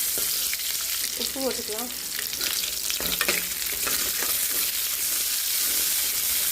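Spices and onion sizzle and fry in hot oil as the base for a goat liver gravy, a loud, continuous hiss close by with stirring scrapes. Someone speaks briefly over the frying.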